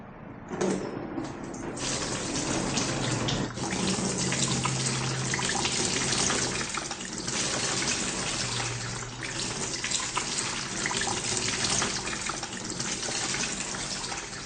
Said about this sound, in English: cool the burn under cold running water